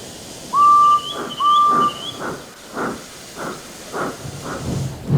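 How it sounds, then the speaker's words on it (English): A steam whistle sounds twice, then a steam locomotive chuffs away in a steady rhythm of hissing puffs, fairly close, with no talking. "and Edward puffed away"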